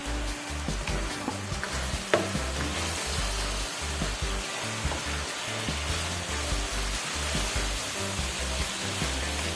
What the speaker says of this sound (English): I don't think this should take that long to fry.